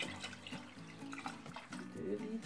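Tap water running into a cooking pot for a couscous sauce, a soft continuous splashing and gurgling that rises in pitch as the pot fills, quiet with a little talk nearby.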